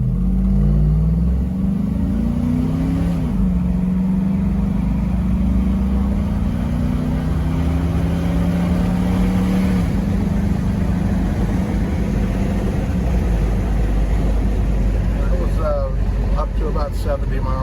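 A 1987 Toyota FJ60 fitted with a 5.3-litre Vortec V8 drives down a road, its engine droning steadily and climbing in pitch through gear changes, loud and close with constant road and wind noise.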